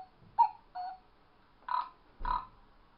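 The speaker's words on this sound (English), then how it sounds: "because it actually makes a noise like a cuckoo" A childhood toy eagle gives out a cuckoo-like call: short, clear hooting tones in two quick pairs separated by a pause, loud and close, with no voices.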